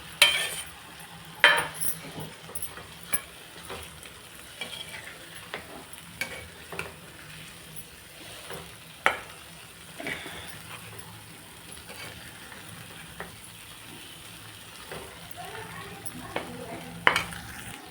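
Potato pieces fry in a spiced gravy of oil and turmeric while a spoon stirs and scrapes the pan. There is a steady low sizzle with scattered sharp clinks and scrapes of the spoon, and no talking.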